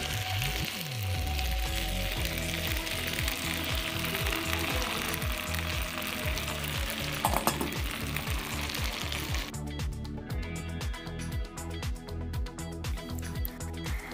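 A chicken sizzler crackles and hisses steadily on a hot plate at a Vagamon restaurant, the loud continuous frying sound close up throughout.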